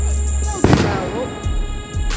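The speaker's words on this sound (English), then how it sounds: "we in our apartment complex shooting fireworks" Fireworks set off at night in an apartment complex: a loud close bang followed by softer crackling pops, with a steady whistling tone and background noise throughout.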